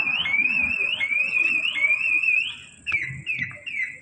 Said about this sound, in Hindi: आपको कुछ नहीं करना, बस लॉक और अनलॉक वाली की को एक साथ प्रेस करके रखना है, तो गाड़ी ऐसे आपकी बजने लग जाएगी